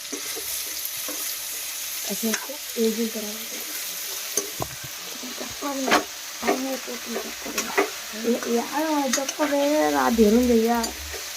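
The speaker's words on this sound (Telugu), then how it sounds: "బెండకాయలు వేస్తున్నాను." Okra (lady finger) frying in a pan for a curry, a soft continuous sizzle with spatula knocks and stirring scrapes nearby, while someone talks over it intermittently and a voice rises toward the end.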